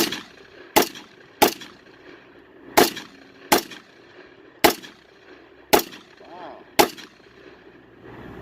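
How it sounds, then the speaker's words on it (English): Rifle shots from a Palmetto State Armory Chinese SKS fired at a range, eight sharp, loud reports spaced irregularly about a second apart, each with a short ringing tail over quiet outdoor background. "Let me get some bullets downrange."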